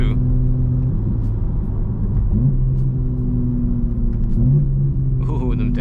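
Tuned stage 3 BMW M4 at a rooftop car meet, a loud nearby engine rumbling with rising and falling revs and downshift blips, with people talking over it.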